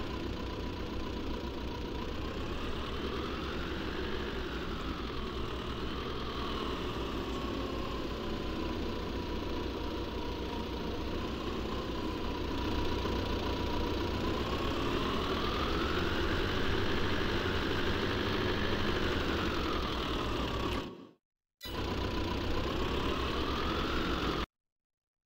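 Tractor engine idling in Farming Simulator 22, a steady low mechanical drone with rhythmic knocking that swells and eases slowly, holding for over twenty seconds before cutting out briefly and resuming, with no talk.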